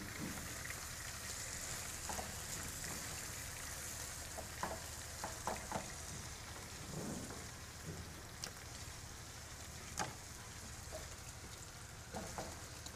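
Chicken pieces frying in hot oil give off a steady, soft sizzle with scattered small pops and crackles, heard alone and fairly quiet.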